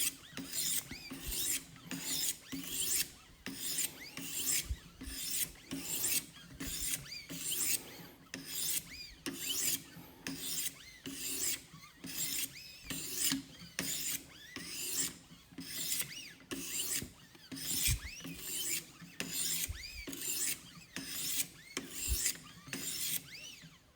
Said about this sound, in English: as you work the stone, it starts to get smoother and smoother and smoother